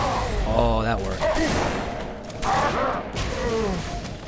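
Bursts of Brute Shot grenade launcher fire hitting Brutes in the video game Halo ODST, loud, dense and repeated throughout, mixed with busy combat noise and voice-like game sounds.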